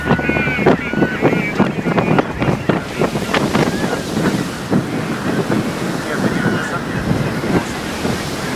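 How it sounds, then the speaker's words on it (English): Strong, cold wind buffets the microphone on a blustery winter day in Scotland, a continuous loud roar with gusty bursts running through the whole stretch, with no talking over it. "We're back in the winter and blustery weather. It's cold. It's windy."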